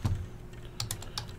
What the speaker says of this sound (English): Let's type that down.